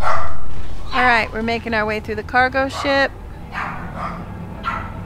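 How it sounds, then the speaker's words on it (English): Several yapping dog barks in a quick burst on a cargo ship level of a Dead Space playthrough, loud and close, with someone talking before and after. "Sorry about the barking."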